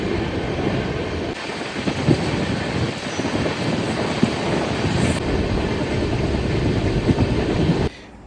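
Aboard a train travelling from Vijayawada to Warangal, a steady loud rolling rumble and rattle runs continuously, then cuts off abruptly just before the end.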